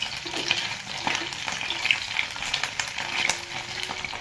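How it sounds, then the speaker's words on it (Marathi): Brinjal pieces fry in hot oil over a low flame, with a continuous soft sizzle and crackle. Now and then a spoon scrapes and stirs through the pan, and the pieces are turned over and over. "तर आता हे वांगे आपण तळून घेऊया."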